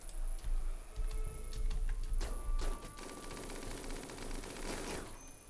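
Gunfire from the video game RimWorld crackles in quick bursts of sharp shots, a rapid machine-gun-like rattle mixed with single cracks, moderately loud without speech.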